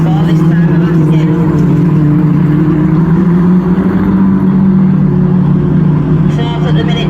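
Stockhatch cars race at the 2024 men's autograss nationals, their engines holding a loud, steady, rasping drone that never lets up, with a commentator talking over the noise.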